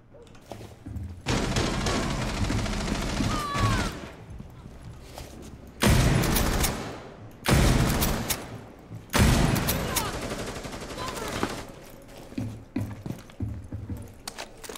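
Rainbow Six Siege gunfire rattles in long, loud automatic bursts separated by short pauses, with mechanical clatter between them and occasional speech under the shots.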